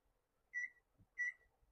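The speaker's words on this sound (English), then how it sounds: "I'm going to hit a timer for 8 minutes" Two short electronic beeps from a kitchen timer set while pasta cooks, evenly spaced about half a second apart, clear and fairly close in an otherwise quiet kitchen.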